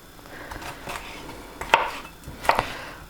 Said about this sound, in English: I'm just going to chop these bits of pepper quite smallish